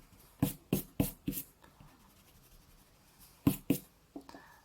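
A pencil eraser rubbing out writing on paper: two quick bursts of short, close scrubbing strokes, four in the first group and two more after a pause, then a faint brush, with no speech.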